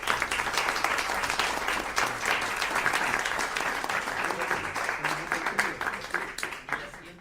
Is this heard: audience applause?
yes